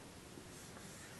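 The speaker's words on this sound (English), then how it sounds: "Now here's how we write the word seven" Pencil scratching across paper while writing out a word by hand, a soft continuous rubbing scrape that runs steadily through the moment with no voices.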